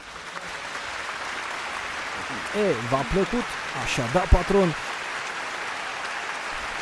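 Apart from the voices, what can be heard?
audience applause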